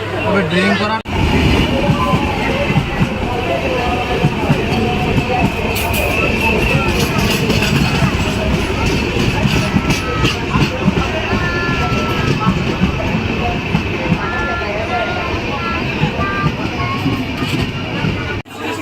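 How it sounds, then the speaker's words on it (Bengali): A local train running from Jhargram to Digha rumbles and rattles steadily from inside the carriage, with squeals and clanks over the noise and passengers talking and chattering throughout. "আমাদের ট্রেনটা ছেড়ে দিয়েছে"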